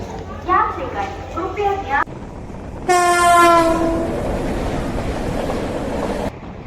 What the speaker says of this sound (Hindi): भुवनेश्वर से होकर तिरुपति जाने वाली ट्रेन अभी शुरुआत नहीं हुआ उसका।